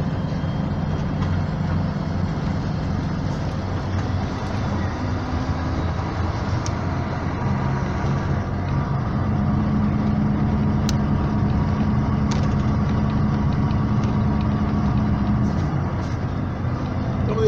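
A vehicle engine drones steadily in seventh to eighth gear while descending the winding Caracoles mountain road in the Andes, a continuous loud low rumble with road and wind noise.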